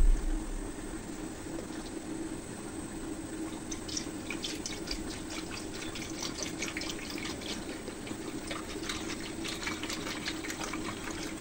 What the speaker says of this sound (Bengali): আমি পুরোটা দুধ এখানে ঢেলে দিলাম, 1 লিটার দুধ